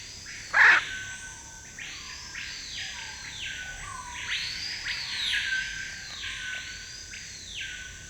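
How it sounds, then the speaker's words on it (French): Harsh macaw calls ring out in the Amazon rainforest, one sharp loud squawk first, then a run of repeated rasping cries at moderate distance. "résonne avec un semblable éclat le cri rauque des aras"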